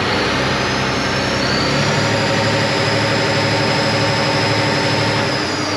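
A tractor engine idles with a heavy, steady rumble, close and loud, with a slight shift in tone partway through and a continuous mechanical drone.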